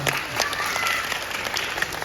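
Applause from an audience at an annual dance function on a stage, a dense, steady wash of clapping lasting about two seconds at even loudness.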